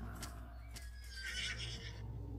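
A horse neighs in the Roblox game ARBS, one long, loud whinny rising through the middle of the clip over a steady low game hum, with a few sharp clicks before it.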